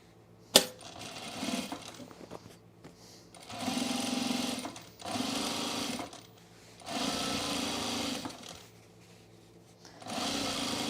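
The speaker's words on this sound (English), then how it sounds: "So I'm going to edge stitch this." A sewing machine edge-stitches a flat-felled seam on overalls, running in three or four sustained close bursts of rapid whirring with short pauses between, with a sharp click at the start.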